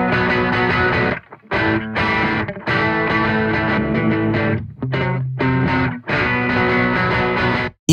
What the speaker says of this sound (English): you get a ton of distortion